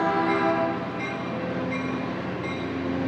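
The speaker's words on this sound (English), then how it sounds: "Here comes Scout Train 284." A passenger train rolls steadily through Burlingame station, a loud sustained rumble of wheels and cars filling the scene throughout, with a faint tonal horn-like hum running underneath and no talking.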